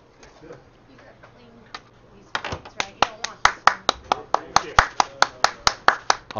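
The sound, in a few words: applause for curling teams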